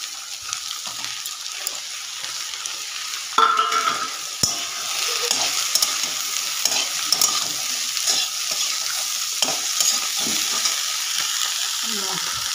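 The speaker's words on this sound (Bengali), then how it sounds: "দেখুন, মশলাটা এখানে আদা, কাঁচা লঙ্কা, টমেটো এগুলো দিয়ে দেবো।" Ginger, green chilli and tomato masala sizzles steadily in a hot pan for a vegetable dal, with occasional scrapes and knocks of a spoon stirring against the pan.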